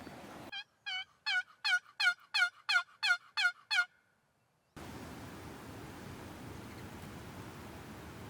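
Wild Rio Grande turkeys, young jakes in Oklahoma, gobble in a fast string of about eight loud, rattling calls. After a pause, steady wind or hiss takes over.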